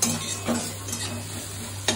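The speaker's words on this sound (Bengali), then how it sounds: "দেখো পেঁয়াজটা ভাজা ভাজা হোক" Onions fry and are stirred in a pan for a pomfret curry, with soft sizzling under sharp scrapes and clinks of a spoon against metal, several in quick succession.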